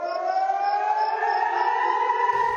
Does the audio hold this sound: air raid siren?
yes